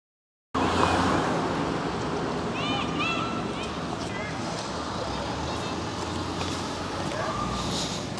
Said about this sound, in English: It's a little bit windy today and busy traffic and noisy out here